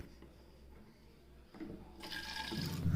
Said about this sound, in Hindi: किचन में सबसे पहले मैं इस बॉटल में पानी भरती हूँ।